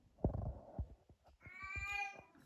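A cat lets out a long, drawn-out yowl, close by, after a few shorter thumps and cries.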